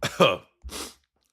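A person with allergies sneezes close by: a quick gasping intake, then a short burst of breathy noise, with silence after.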